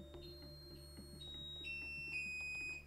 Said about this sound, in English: So I can turn on the buzzer.